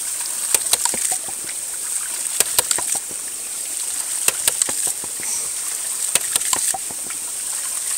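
An upgraded stainless steel ram pump runs at high pressure, its sharp metallic clacks coming in regular clustered bursts every couple of seconds over a constant rushing water hiss.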